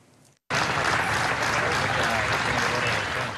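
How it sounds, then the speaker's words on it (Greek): Mourners applaud as an 11-year-old girl's funeral procession carries her to burial, dense sustained clapping bursting in after a brief quiet moment and continuing loudly throughout. "Με χειροκροτήματα μεταφέρεται στην τελευταία κατοικία της η Μορένα Ντομίνγκες."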